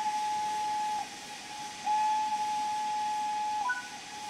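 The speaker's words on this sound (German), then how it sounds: "Dann machen wir mal zwei lange Pfeifsignale." A locomotive whistle in Train Sim World 3 on the Peak Forest Railway sounds two long, steady blasts, the second longer than the first, with a short gap between them and no talk.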